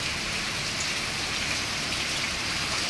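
Heavy rain that has been falling for two days, flooding the road and fields, makes a thick, even roar of drops hitting surfaces, constant and close with no talking.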